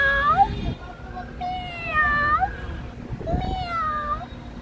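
A person imitates a cat's meow, producing three drawn-out, sliding meow calls close to the listener, with faint background noise between them.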